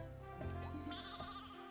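Sheep bleating in the video game Infinity Nikki, a few wavering bleats layered over steady game music, fairly close and clear with no talking.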